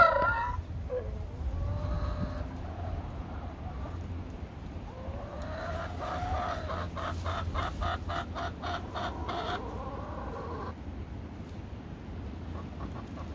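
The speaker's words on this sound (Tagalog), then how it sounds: "Ito ang mga manok natin guys, oh, gusto nang lumabas." Chickens clucking and calling inside their coop, several birds overlapping in short rhythmic bursts over a steady rush of strong wind.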